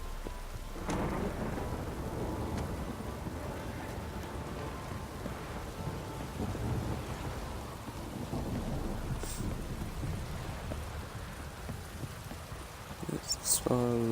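Heavy downpour with rolling thunder in the Witcher 3 game world, a dense continuous roar of rain on surfaces with deep rumbles, plus a sharper crack near the end.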